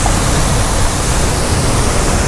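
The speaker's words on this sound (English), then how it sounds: "Look at these waves." Heavy Caribbean surf crashes against beach rocks as a loud, continuous broadband roar with no clear breaks between waves, heard up close with no talking.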